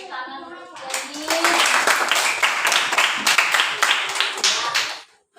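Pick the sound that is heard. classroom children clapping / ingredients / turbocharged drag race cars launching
classroom children clapping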